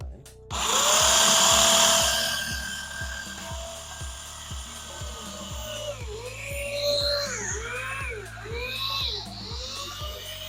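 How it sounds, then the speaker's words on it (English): A power drill whirs loudly, its pitch dropping as it bites into metal siding, then surging and sagging in repeated bursts under a steady low rumble. "So we'll drill through."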